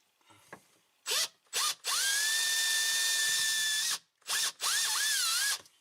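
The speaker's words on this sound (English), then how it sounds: "you could go like this with a small drill bit." A small power drill with a small bit whines in several bursts while installing a cab heater on a Honda Talon, short stop-start pulses followed by a long steady run, then two more brief spins, close by.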